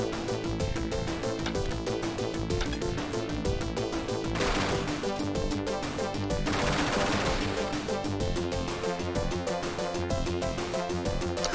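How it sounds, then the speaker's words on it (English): Rapid machine-gun fire from the Sega Genesis game Ultracore rattles on continuously and loudly, blended with pulsing game music and explosions. "there's the machine gun"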